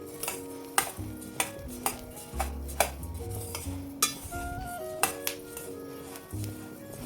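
Coriander seeds are dry-roasted in a pan and stirred, giving repeated close scraping clinks of a utensil against metal with soft rattling between strokes, no talking.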